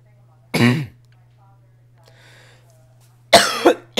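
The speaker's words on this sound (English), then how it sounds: "Excuse my coughing" A person coughs sharply a couple of times, close up, with a short pause between, over a low steady hum.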